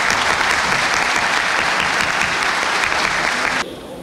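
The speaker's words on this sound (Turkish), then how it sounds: "kendilerine bir alkış rica ediyor" Applause for graduating students at a ceremony, loud sustained crowd clapping that runs strong before dropping off abruptly near the end.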